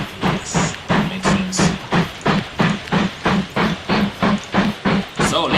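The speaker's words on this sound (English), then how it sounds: "Do we want to ride this train from the engine?" Steady clickety-clack of a train running on rails in the video game Mashinky, heard from the engine as a regular, evenly spaced beat of wheel knocks with a low hiss underneath, no talk.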